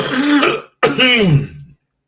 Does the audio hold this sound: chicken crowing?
no